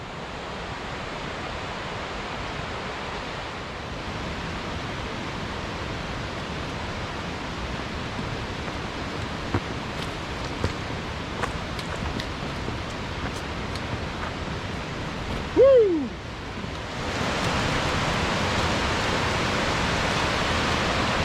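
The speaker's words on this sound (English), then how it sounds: "Our first view of the creek below us. It's roaring away today after all the rain we got yesterday." A creek below the Collins Gulf Trail in South Cumberland State Park, Tennessee, swollen after heavy rain, roars in a steady, loud, continuous rush, with a brief whoop from a hiker near the end.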